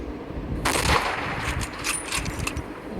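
Sniper rifle shot in a hunting video game: a single sharp, loud report cracks out, followed by a rolling echo and scattered reverberant tail that fades over the next couple of seconds.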